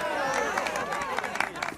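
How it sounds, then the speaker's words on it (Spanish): A cheering, clapping crowd in the video game Far Cry 6, a lively burst of scattered applause and whoops mixed with chatter, moderately loud and brief. "¡Aplauso para Dani!"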